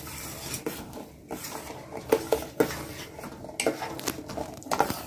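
Sabudana kheer with sugar is stirred in a metal pot, giving intermittent close spoon clinks and scrapes in an uneven rhythm.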